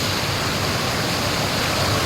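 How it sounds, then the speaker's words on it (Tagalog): Big ocean waves surging on a shore, a constant loud wash of broadband surf noise with no gaps. "Tingnan nyo naman guys yung alon. Malaki oh."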